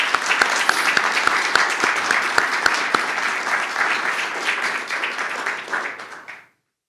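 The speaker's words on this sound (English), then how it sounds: "Please, a round of applause for Maria, who is joining us on Zoom." An audience at a community organization's annual meeting applauds loudly and steadily for several seconds, with a few sharp individual claps standing out before the clapping fades away.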